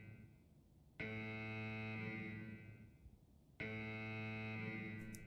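In the Escape From Tarkov video game, an extraction alarm sounds as two long, steady, buzzing horn-like blasts, each held for a couple of seconds, moderately distant and fairly faint.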